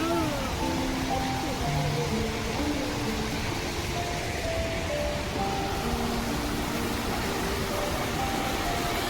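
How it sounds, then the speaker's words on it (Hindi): The Bada Ghagra waterfall in Keonjhar, Odisha, roars as a dense, continuous broadband rush of falling water, loud and unbroken throughout, with faint tonal sounds drifting over it. "यहाँ से मुझे काफ़ी आवाज़ सुनने को मिल रहा है वाटर फ्लो का।"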